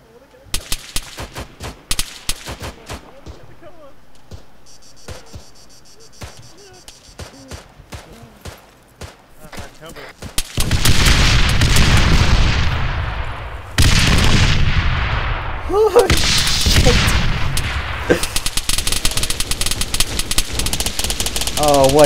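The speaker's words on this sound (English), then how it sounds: "They got a BTR firing us." Gunfire from a BTR armored vehicle in a tactical multiplayer shooter game, with sharp scattered shots early giving way to loud, dense bursts of heavy fire and impacts in the second half, close and continuous.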